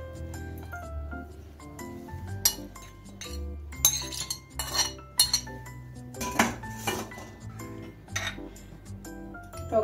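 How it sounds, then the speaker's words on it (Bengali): Fried onions being put into a mixer jar in a home kitchen, heard as repeated metallic clinks and clanks of utensils and containers, close and uneven in rhythm, with no talking. "এখন আমি একটা মিক্সিং জারে পেঁয়াজগুলো নিয়ে নিচ্ছি।"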